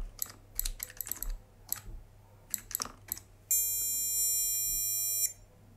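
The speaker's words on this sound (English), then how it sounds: "I think we have to type that rather than just try and run the file." Bursts of keystrokes on a computer keyboard at a vintage VT100 terminal emulator setup, clicking in quick irregular clusters, then a sustained electronic beep tone for nearly two seconds; no speech.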